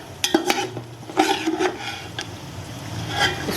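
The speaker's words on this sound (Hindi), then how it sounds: "इसको भी इस तरीके से निकाल लेंगे ताकि इसका ऑयल घी जो है वो नीचे रह जाए।" Fried pistachios are scooped out of hot ghee in a pan, giving a few sharp metallic scrapes and clinks of a spoon against the pan over a faint background sizzle.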